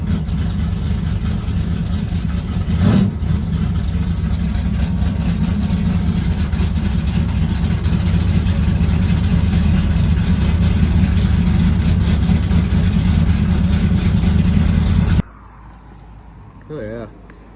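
Car engine idling steadily at close range with a low rumbling drone, a brief louder bump near the start, and a voice talking over it before the engine cuts off and it goes quiet.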